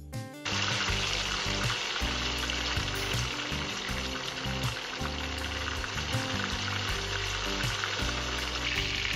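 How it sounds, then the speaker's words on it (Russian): Chicken lula kebab fries in sunflower oil in a pan, giving a loud, steady, close sizzle that runs continuously after a brief start, with no one speaking. "Жарить я буду с двух сторон, где-то по 7 минут с каждой стороны."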